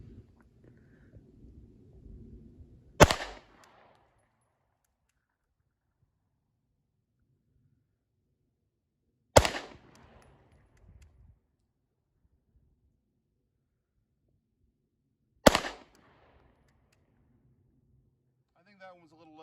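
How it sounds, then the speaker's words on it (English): A Sig P228 pistol fires three single shots at an outdoor range, sharp loud cracks spaced several seconds apart, with near silence between them and faint murmuring before the first shot. "So let's see how she does. I'll be shooting at the head of the target this time."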